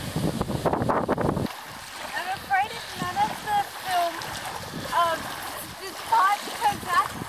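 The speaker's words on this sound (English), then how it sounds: "Bit of wind getting up." Wind gusts across a sandy beach, roaring and buffeting the microphone loudly for the first second and a half, then easing to a quieter background with scattered faint sounds.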